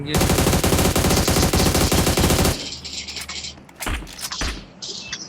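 Rapid automatic gunfire in a video game, a loud fast burst of dense repeated shots for about two and a half seconds, followed by a few scattered thumps and quieter bangs.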